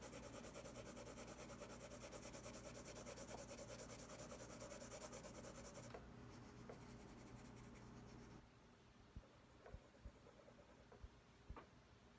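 A colored pencil scratches and rubs steadily across paper for several seconds, then a few sharp little snaps and taps follow as the point is broken off; close and fairly quiet.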